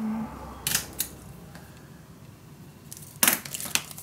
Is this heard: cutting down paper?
yes